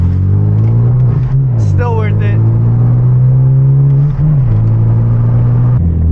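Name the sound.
Hyundai Genesis Coupe aftermarket loud exhaust accelerating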